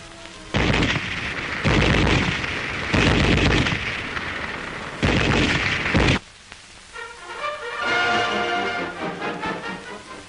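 A German MG-34 7.92 mm machine gun fires in four loud, sustained bursts of roughly one second each, separated by short pauses, followed by a quieter stretch of clattering and ringing noise.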